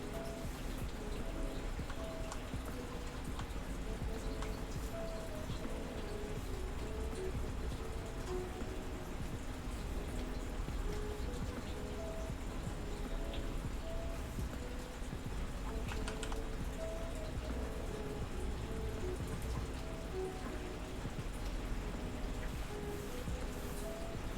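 Rain pours down outside in a steady, soft patter that runs on without a break, with faint clicking mixed in.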